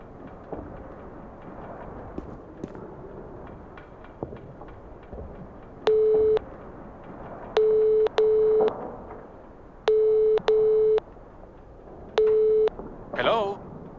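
A reception desk telephone in a video game gives off a steady ringback pattern, loud paired and single electronic tone bursts recurring at regular intervals over a quiet room hum, with a soft voice near the end.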